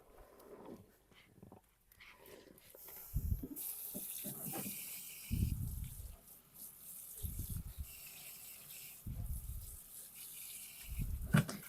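Tap water runs into a sink for a second soak of dyed yarn, soft gushing bursts that start and stop several times, close and fairly quiet.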